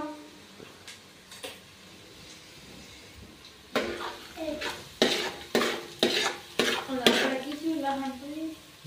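Mustard seeds and cumin frying in hot oil for a paneer curry, a spoon scraping and clinking against the pot in a quick run of stirring strokes over a low sizzle, loud and close after a quieter start.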